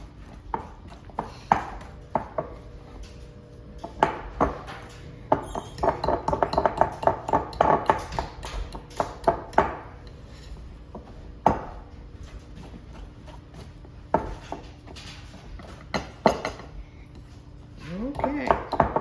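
A hand whisk beats a chocolate dessert mixture in a bowl, making repeated clinking and tapping against the sides in irregular bursts, with scattered kitchen clatter and a few quiet stretches.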